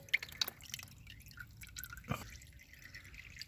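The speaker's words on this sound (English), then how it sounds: "You see it's dripping on that exhaust pipe there" Sparse drips of oil land on the exhaust pipe of a Honda CBR500R motorcycle in a quiet space, with a few soft patters early on and one clearer splat partway through.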